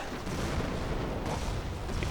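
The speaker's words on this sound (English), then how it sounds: "Here comes more artillery." Dense rumbling artillery barrage in a Company of Heroes Operation Market Garden 4v4 match, a continuous wash of booms and blasts filling the whole stretch at steady loudness.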